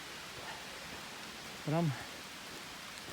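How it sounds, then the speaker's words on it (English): Rain falls steadily on a leafed-out forest canopy and understory, an even, soft hiss throughout, with a brief spoken word partway through. "even though it sounds like it's raining pretty good"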